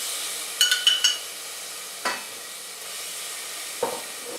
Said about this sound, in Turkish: Şöyle bir dolu yemek kaşığı domates salçası ilave edip kavurmaya devam ediyorum